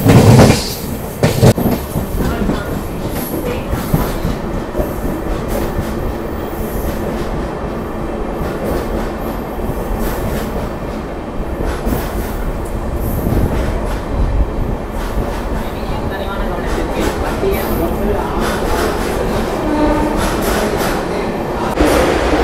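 Amrit Bharat Express from Erode to Jogbani pulling into Salem station, heard from inside the coach: a loud continuous rumble with rhythmic wheel clatter over rail joints and occasional squeals.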